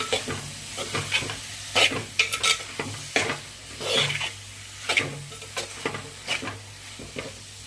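Drumstick pieces sizzle in a pan while a spoon stirs them. The scraping strokes come close together in an irregular rhythm over a soft, constant frying hiss.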